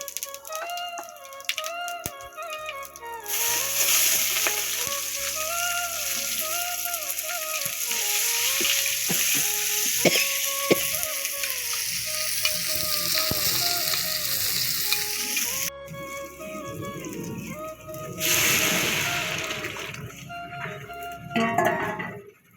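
Cumin seeds hit hot oil and sizzle steadily and close for a long stretch, with some stirring and rattling along with a background melody.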